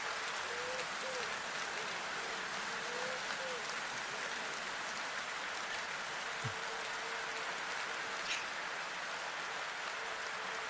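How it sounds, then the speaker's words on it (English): Rain falls in a steady, broad hiss heard from outdoors, with a faint tonal hum running underneath and a couple of brief clicks. "I feel like the rain is slowing me."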